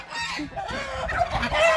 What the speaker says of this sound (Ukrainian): Гуси кричать.